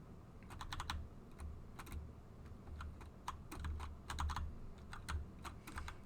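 Typing on a computer keyboard, close and fairly quiet, with irregular bursts of quick key clicks separated by short pauses, with a low hum underneath and no talk.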